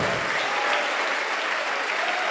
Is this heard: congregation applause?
yes